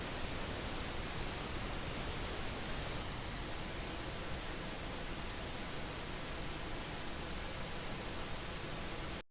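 Steady, dense broadband noise with early reflections delayed close to the direct signal hisses unchanged for several seconds, faint and uniform, with no talking, then cuts off abruptly.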